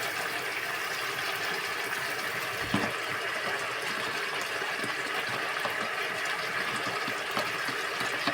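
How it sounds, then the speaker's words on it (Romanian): Cold water runs into a cooking pot over garlic while a Romanian dish is being made, a continuous, even gushing pour at moderate level with no talking. "Și aici punem apă rece."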